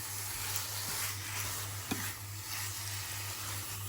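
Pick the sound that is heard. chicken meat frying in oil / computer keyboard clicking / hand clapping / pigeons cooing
chicken meat frying in oil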